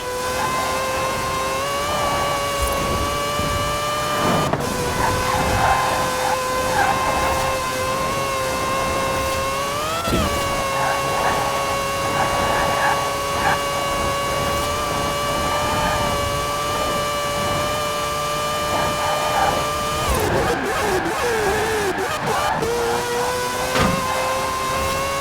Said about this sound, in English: Please do not concern yourself with the howling noise. This is quite normal.